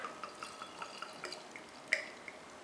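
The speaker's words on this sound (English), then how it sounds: "And let's give this a pour." Lost Abbey Judgement Day beer is poured into a glass, a faint near trickle with soft irregular drips and splashes, no talking.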